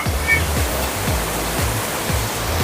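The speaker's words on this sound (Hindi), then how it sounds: "ये देखिए झरने तक पहुंच गए हैं" A waterfall rushes as a dense, constant roar after a rugged three-kilometre hike, a steady wash of water with faint low rhythmic thumps underneath and no talk.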